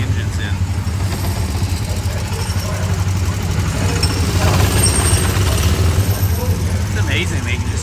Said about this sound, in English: those look like lawnmower motors in the back of these cars